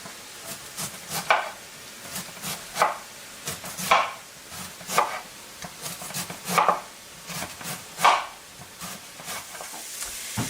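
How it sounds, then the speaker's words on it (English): A knife chopping vegetables for cabbage soup on a board, about a dozen crisp irregular chops close by, with a faint sizzle of vegetables sautéing in the background and no speech. "I am not doing super fine chop, but I don't want it very thick either."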